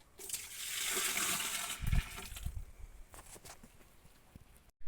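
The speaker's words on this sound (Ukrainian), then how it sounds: "Тепер виливаю літр молока." A liter of milk poured into a garden spray mixture for roses and tomatoes makes a steady, gushing liquid stream for about two seconds, then trails off into quieter splashes nearby, with no one talking.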